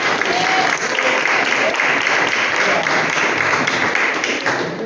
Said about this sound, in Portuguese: Recebe a serva do Senhor com palmas